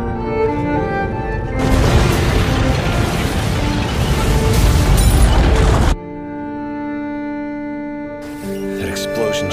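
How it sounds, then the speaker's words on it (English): Anime explosion: a loud, roaring blast of broadband rumble that sustains for about four seconds, cuts off abruptly, and gives way to a quieter tonal music bed with a brief burst of noise near the end. "That explosion just now."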